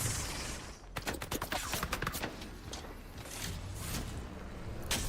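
Rapid bursts of gunfire in the video game Apex Legends, loud and close, with dense volleys of shots in the first half and scattered shots after, no talking.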